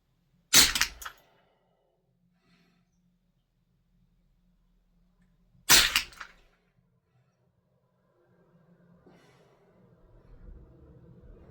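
Two sharp, loud shots from a Tippmann M4-22 rifle fired at a 2-inch steel target 50 yards out, spaced about five seconds apart, followed by faint outdoor rustling and no talk.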